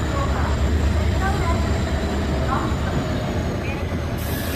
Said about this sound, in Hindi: फाइनली अपनी ट्रेन निकल चुकी है मुरादाबाद जंक्शन से, प्लेटफॉर्म नंबर 1 से